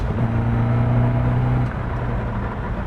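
Caterham CSR engine pulling steadily at low revs while driving on a track, a close, even drone that drops slightly in pitch partway through as the car slows, with no talking.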